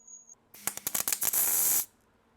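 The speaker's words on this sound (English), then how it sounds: "all of the spray can grey primer you see me using is weld through primer" A spray can of grey weld-through primer used on rusty car bodywork, starting with several short hissing bursts and then giving one steady, loud spray that cuts off abruptly.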